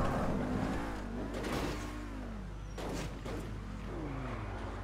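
Car engine in GTA Online humming and revving with rising and falling pitch as it drives, steady and fairly quiet, with a voice speaking over it.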